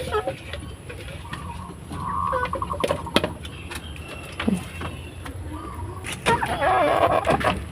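Chickens clucking and calling nearby in a noisy outdoor setting, with scattered squawks and some background voices, including a sick chicken that cannot stand.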